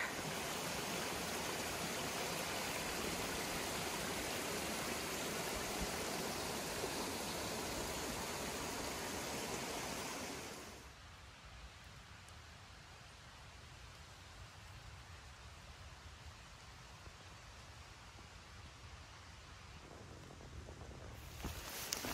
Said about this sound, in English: All right, so it turned into a full rain.